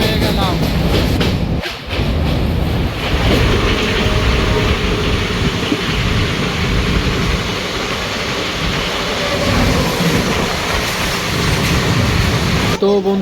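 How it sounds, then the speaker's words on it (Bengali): Passenger train on the Kolkata to Tarapith line, a loud, steady rolling rumble with continuous rail noise throughout, heard from inside the carriage. "এই যে ট্রেন ছেড়ে দিল।"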